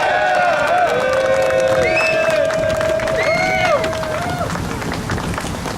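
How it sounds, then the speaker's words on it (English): An outdoor crowd at a Portland post office rally cheers and claps loudly, with rising and falling whoops and whistles over a dense bed of applause and crowd noise. "One more round of applause for Senator Merkley."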